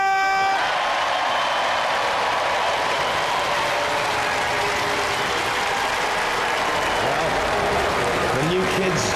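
After the judges' decision at a Robot Wars semi-final, the arena crowd responds with a mixed reaction of loud, continuous applause and cheering that fills the hall, while a voice talks over it near the end.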